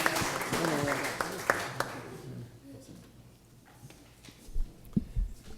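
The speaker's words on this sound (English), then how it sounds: "let's give him a round of applause" Applause at a city council meeting for a longtime community member, a burst of clapping up front that dies away after two seconds, followed by quiet room noise with a few thumps and a voice.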